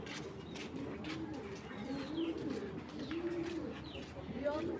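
Racing pigeons coo in a loft, low soft repeated coos in the foreground with faint chirps and someone talking over them.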